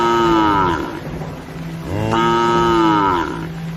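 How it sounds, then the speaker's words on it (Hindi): A cow in a cartoon moos loudly during a stormy forest scene, two long drawn-out lows in succession, close and prominent, with a steady wind-like background beneath. "रामू की ऐसी हालत देखकर कपिला जोर जोर से रंभाने लगी"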